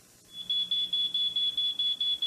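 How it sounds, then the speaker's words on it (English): A smoke detector sounds a rapid series of shrill, high-pitched beeps in steady rhythm, about ten pulses, loud and alone after a brief quiet start. "This is the sound of a smoke detector."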